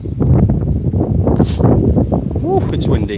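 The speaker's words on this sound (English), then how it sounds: "Woo, it's windy." Strong storm wind buffets the microphone outdoors with a steady roaring rush of noise, while people talk over it.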